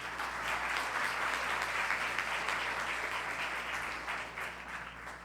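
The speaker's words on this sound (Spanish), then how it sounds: "Recibámoslo con un aplauso." An audience at a physiotherapy congress applauds steadily to welcome a speaker, a dense, sustained wash of clapping that tapers slightly at the close.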